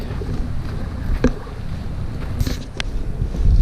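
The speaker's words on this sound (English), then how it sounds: "Getting a pretty good wind coming upriver, downriver." Wind gusting over a fast-moving river at a waterfall fishing spot, a steady broadband rush of air and water with a few brief knocks and a louder gust building at the end.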